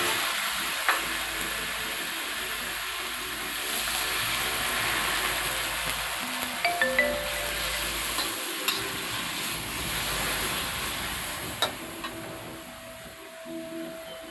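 Chicken marinated for sweet-and-sour stir-fry hisses and crackles with garlic in a hot pan, a steady sizzle with occasional utensil clicks, close and alone.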